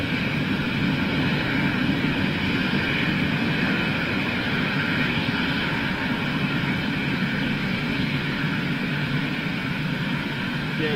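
A TAP jet airliner passes overhead as a steady, loud broadband engine roar that holds constant throughout, heard from the ground at home without clear talk.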